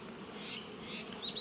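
Honey bees buzzing around a hive frame while a beekeeper readies colonies against returning cold, a dense continuous close drone with no voices.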